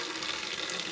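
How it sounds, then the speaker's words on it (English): A 42,000 BTU RV water heater fires up with a faint, steady hiss and rush of burning gas or flowing water, heard alone for a brief moment without talk. "I hear the thing firing up."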